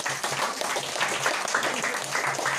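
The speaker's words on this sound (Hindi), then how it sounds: "तालियों द्वारा" Guests clap together at a home Ram Navami katha gathering in Rolleston, a continuous, even round of applause with a faint voice murmuring underneath.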